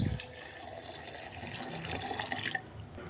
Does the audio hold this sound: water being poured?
yes